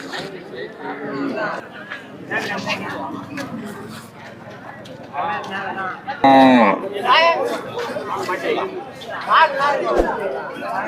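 Jallikattu bulls and cattle at a bustling bull market, with occasional lowing and hoof sounds mixed into steady crowd chatter and nearby voices talking throughout.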